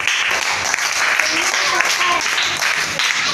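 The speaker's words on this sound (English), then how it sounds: "Claps." Children clapping together during a classroom conversation activity, a loud close burst of mixed clapping with voices chattering over it.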